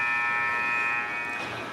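A steady tonal end-of-period buzzer at a U18A ice hockey game sounds loud and sustained, with crowd and rink noise beneath it and no one speaking.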